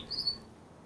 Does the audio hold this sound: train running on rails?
no